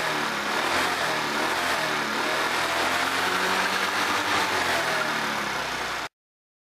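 A scooter engine runs with the throttle opened during a charging-voltage test, a loud, steady buzzing drone held for about six seconds before it abruptly cuts out.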